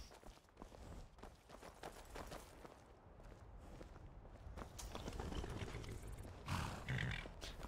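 Horse hooves in the video game Skyrim, a steady run of clip-clopping footfalls, fairly quiet and continuous, with no talking over them.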